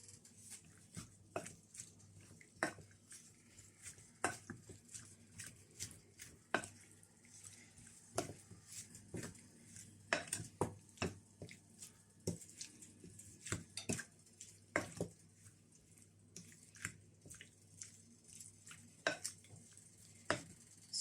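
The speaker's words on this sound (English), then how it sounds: "I'm going to mix this. I'm going to mix everything together." Jollof rice with spices and prawns is stirred in a pot, a quiet rhythmic series of scrapes and clicks from a utensil repeating throughout over a faint background hum.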